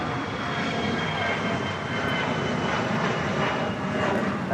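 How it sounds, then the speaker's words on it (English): Airbus A350-900 airliners at LAX produce a loud, steady roar of jet engines as they arrive, a continuous broadband rumble with a faint whine on top. "Ita arriving on the north side and Fiji here on the south side, both A350-900s."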